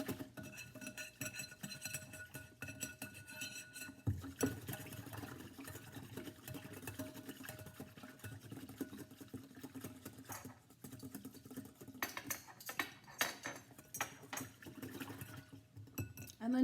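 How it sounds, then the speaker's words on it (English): A spoon stirs a duck marinade in a bowl, making quiet, close clinks and scrapes against the bowl with soft liquid movement in between. The sounds are faint and irregular. "And then give it a good stir."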